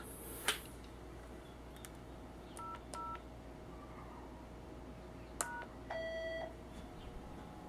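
Telephone keypad DTMF tones dialing 00 pound into a Bogen UTI1 paging interface: a few short separate beeps followed by a longer steady tone, heard alone over a quiet background hum.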